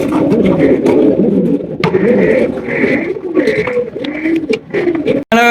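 Pair of yellow Shekhar pigeons with nasal wattles, cooing in a low, throaty burble that repeats again and again at close range, under a person talking.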